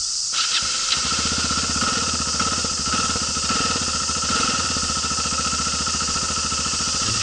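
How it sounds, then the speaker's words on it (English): A motorcycle engine that tends to stall after sitting runs steadily just after starting, with a continuous low idle rumble and revving, close and loud throughout with no talk. "once it's been sat for a while, and then you start, it'll stall, but if you rev it for a little bit"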